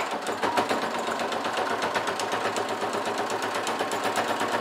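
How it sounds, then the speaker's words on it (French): A sewing machine stitches a fabric pouch, a fast even chattering run that holds steady and close for the whole stretch with no voices. "Hop, je continue de coudre"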